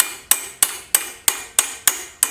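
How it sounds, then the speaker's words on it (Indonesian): A hammer taps a drill attachment tight in seven sharp metallic strikes, evenly spaced about a third of a second apart, close and clear with nothing else around. "ini juga teman-teman bisa dirapatkan dengan menggunakan palu seperti ini"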